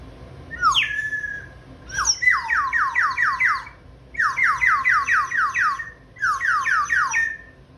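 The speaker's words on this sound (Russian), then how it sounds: "она в виде птицы, в виде воробья. Во-вторых, послушайте, как она свистит." A sparrow-shaped bird whistle toy is blown in repeated bursts of quick, chirping trills that sound like birdsong, with a kitchen exhaust fan humming steadily underneath.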